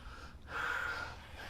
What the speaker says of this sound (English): You can hear these two athletes breathing.